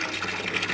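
Water pours at full flow into a 12-inch aquaponics grow bed, a steady close-up gushing and splashing rush with no talk.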